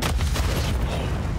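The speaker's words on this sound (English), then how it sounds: "Wow, that car explosion." A car explosion in a Call of Duty collegiate esports match, a loud deep booming rumble that rolls on steadily and fills the whole moment.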